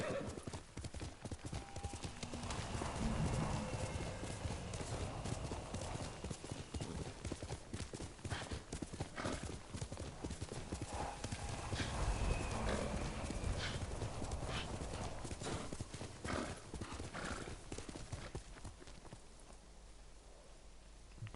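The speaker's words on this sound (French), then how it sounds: "J'ai besoin de mon cheval s'il vous plaît" Horse hooves in the video game Ghost of Tsushima clip-clop continuously at a trotting pace, with an occasional whinny, as a faint voice talks underneath.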